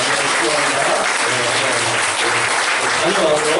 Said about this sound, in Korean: 임창수 간사님 미리 한번 못 가시는 분들 여기 박수로 한번 투표할까요